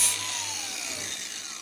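Power tool grinding a lawn mower blade, a steady close whining rasp with a brief louder burst at the start, no talk.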